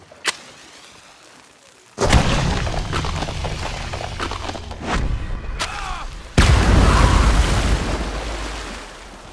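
Dynamite blasts in Red Dead Redemption 2 gameplay: two loud, close booms a few seconds apart. Each is followed by a long rumbling, crackling roar, with scattered sharper cracks in between.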